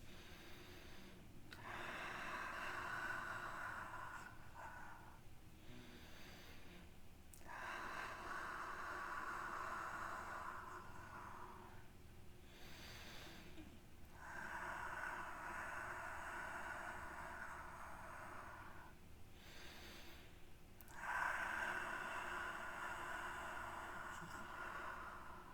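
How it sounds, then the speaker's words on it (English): Slow, deliberate yoga breaths, drawn in through the nose and released through the mouth, four long cycles of rising and falling air noise close to the mic, with quiet pauses between them. "Breathing in through the nose and out through the mouth."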